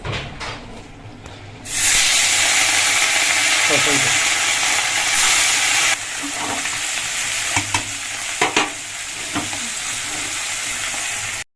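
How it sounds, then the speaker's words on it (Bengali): Fish dropped into hot oil in a pan, with a loud sizzle surging in abruptly, then settling into steady frying with stirring clicks and spatter pops, close by. "তেল গরম হয়ে গেছে এবার হচ্ছে মাছ ভাজবো"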